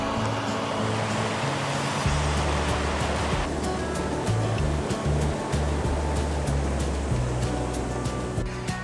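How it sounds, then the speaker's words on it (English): Steady rushing water flows throughout, a broad continuous wash of sound close by with no voices, like a river running over rocks, swollen with spring snowmelt at Kennedy Meadows. "You can see the river running down here."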